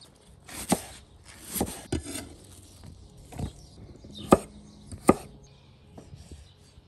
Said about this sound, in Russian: Сейчас мы нарежем овощи, поместим их в поддон